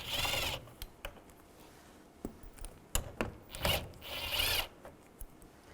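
A ratchet with a 10mm socket removes the side mirror nuts on a 2006-2011 Cadillac DTS. It makes quiet, close clicking bursts, with short scrapes and handling clatter between them.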